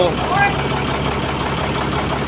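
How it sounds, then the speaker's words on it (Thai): A Hino FM1M truck's EM100 six-cylinder non-turbo diesel idles close by with a steady low rumble, and a voice talks briefly over it at the start. "เครื่องยนต์6สูบครับ"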